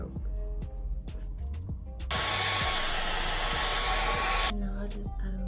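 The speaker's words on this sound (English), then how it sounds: "Now I'm just gonna get a blow dryer and like set all of this." A hair dryer blows steadily for about two and a half seconds while setting the lace of a wig, a loud broadband rush that starts and stops abruptly amid quieter room noise.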